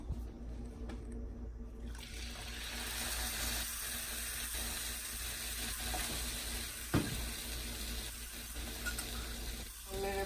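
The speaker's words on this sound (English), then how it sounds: "We add some water to this now." Water poured into a pot of sizzling fesenjoon, giving a steady broad hiss of frying and bubbling liquid with a few soft clinks and knocks from the pan.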